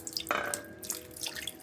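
A little water is poured into a pan of paksiw na isda, a Filipino fish dish, with a brief close trickle and splash followed by small drips and sloshing. No one speaks.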